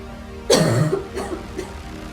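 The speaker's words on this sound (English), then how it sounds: "I can't stop coughing." A harsh cough bursts out loudly, followed by two weaker coughs in quick succession.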